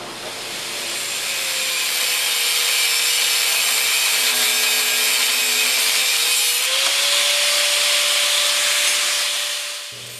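A blade cutting steady and continuous through a forged steel bar held in a vise to separate a knob, loud and close, a sustained rasping hiss with a faint ringing tone that swells in and fades out.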